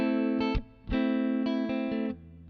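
Overdriven electric guitar through a Line 6 HX Stomp with reverb on plays a short phrase, each note swelling with a spacious, lingering echo that softens the cutoffs.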